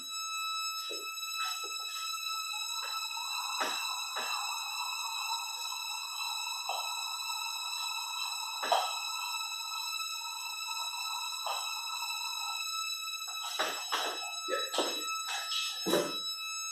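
A steady electronic tone with several high harmonics hums continuously, its pitch shifting slightly from the Doppler effect as the source moves around a classroom, broken by occasional sharp knocks and bumps.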